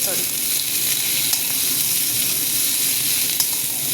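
Goat meat and tomato frying in a pan with a steady, close sizzle, stirred throughout, with faint scrapes rising now and then over the constant frying hiss.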